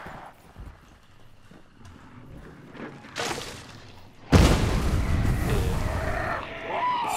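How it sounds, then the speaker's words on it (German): A sudden loud blast in the game Hunt: Showdown erupts mid-clip after quieter footsteps and movement, followed by a sustained rumbling roar that stays loud to the end. "Ich dachte, die Explosion hat einen größeren Impact."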